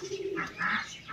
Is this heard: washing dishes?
no